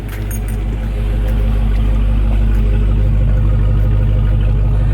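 A Dodge Charger Redeye with stock mid muffler rumbles close by, its low, steady engine note holding loud and even throughout with no one speaking.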